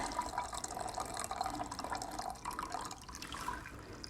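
Tea straining and trickling into a teacup while making lattes, a soft, close, continuous pour with faint drips and splashes, fairly quiet and with no one talking.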